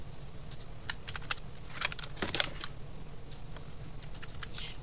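Quiet clicking keystrokes on a computer keyboard, an irregular patter of soft taps with a brief quicker cluster in the middle, close to the mic over low background hum.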